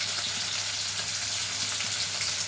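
Steady, bright crackling sizzle of curry leaves and onions frying in hot oil, constant and fairly close, with no voices.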